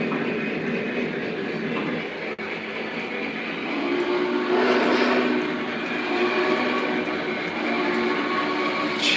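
Coal train with a long 52-car consist in a train simulator game, a steady loud rumble of rolling wagons and engine that swells slightly midway and keeps going.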